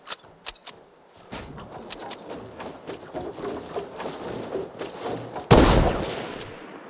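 Gunfire in a shooter video game: sharp single shots and short bursts cracking over a steady low battle rumble, with one loud close burst late in the stretch.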